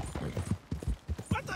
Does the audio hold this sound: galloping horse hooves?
yes